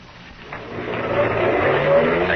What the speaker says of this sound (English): Maxton's car whipped by.